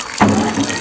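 Water from a tap suddenly starts flowing and keeps up a steady rushing splash into a sink, close by, with nothing else over it.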